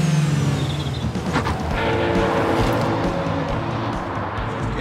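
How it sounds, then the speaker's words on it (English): A Ford car accelerates to 40 mph down a road past stationary vehicles, a loud, steady engine and road drone heard from inside, with rising engine tones and no speech. "That's a 40-mile-an-hour car going down the road with stationary vehicles."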